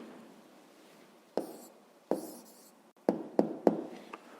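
Answer written on a board: a few sharp taps and scratchy strokes of writing in short separate bursts, close and quiet, with no talking.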